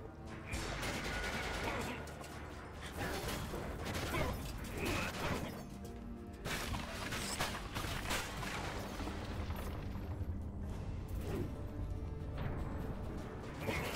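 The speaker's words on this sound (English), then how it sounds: "Fireworks are starting outside your window?" Fireworks going off outside a window in a neighborhood, a continuous stream of crackling bangs and pops heard at moderate distance, filling the background throughout.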